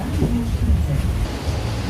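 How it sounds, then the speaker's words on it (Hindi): Heavy rain pours down during a storm, heard from inside a car as a steady, loud, dense wash with low rumbling underneath and no pauses. "बारिश बहुत तेज़ लगी है"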